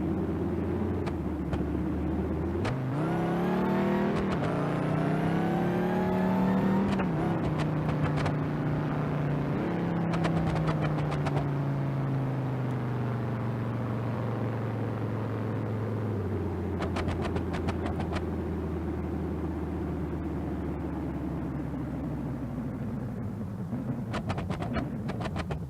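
Simulated car engine in BeamNG.drive roaring through a drag racing pass, revving up in rising sweeps then holding a steady loud drone that slowly falls in pitch, continuous throughout.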